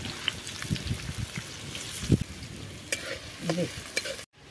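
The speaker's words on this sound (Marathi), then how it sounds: "आता आपण कांदा टाकणार आहोत. तो चांगला लाल होईपर्यंत परतून घेऊया." Onion sizzling in hot oil with whole spices, part of a wood-fired mutton sukka, a steady frying crackle with stirring scrapes and a few louder pops, fairly close and with no talk.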